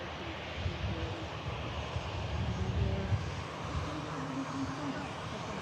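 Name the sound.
SunExpress airliner taking off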